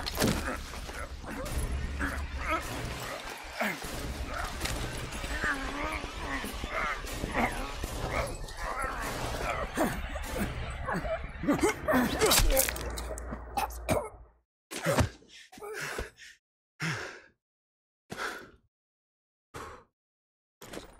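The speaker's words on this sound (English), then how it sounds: "That street dog should have been put down long ago." A street dog in the Call of Duty Black Ops Cold War video game barks and whimpers over game sound and talk for about fourteen seconds, then a run of separate loud bursts follows.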